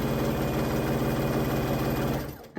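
Sewing machine running a quarter-inch seam on a quilt block, a dense close whir that holds steady for over two seconds and then winds down and stops.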